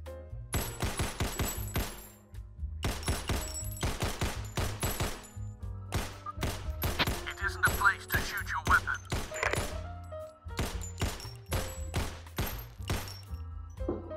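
Gunfire in the VR game Crisis VRigade 2 comes in rapid bursts of sharp shots, separated by brief gaps, loud and close, with other game effects in between.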